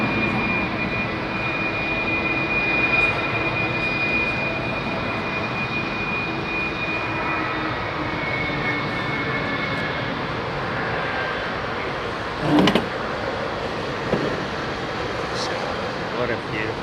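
An airliner taxiing at London Heathrow Airport on a busy evening gives a steady, loud engine whine with a sustained high tone, a brief sharp knock near the end.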